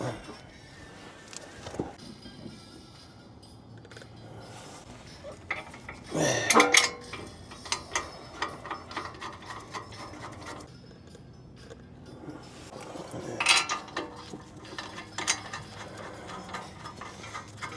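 A metal brake caliper bracket on an Acura RDX is handled and lined up, giving scattered clinks, taps and metallic knocks. Two louder clattering moments stand out against a quiet workshop background.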